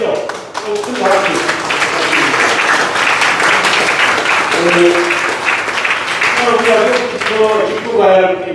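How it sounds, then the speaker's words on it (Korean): Audience applauding loudly at a political party's provincial chapter chair inauguration ceremony, a dense, continuous crowd ovation with a voice speaking over it at the start and end. "그렇게 해달라는 의미로 큰 박수"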